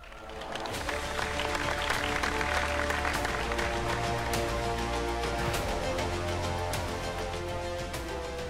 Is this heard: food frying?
no